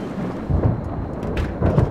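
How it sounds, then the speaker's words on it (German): Thunder rumbles in the Pineview Drive horror game, low rolling booms swelling twice over steady rain noise, with no one talking. "Ich finde den Donner ziemlich realistisch, muss ich sagen."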